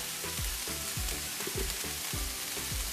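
Kibbeh, the Lebanese appetizer, deep frying in hot oil: a constant close sizzling hiss with bubbling, plus a soft rhythmic bump repeating about every half second, with no talking.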